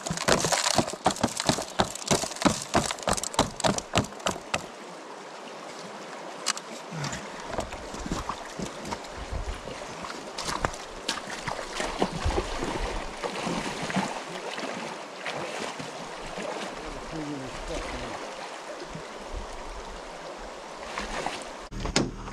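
Sluice box contents being emptied into a gold pan with water at a creek, giving a steady rushing, splashing wash with a rapid run of sharp clicks and knocks early on, then continuous trickling and sloshing throughout.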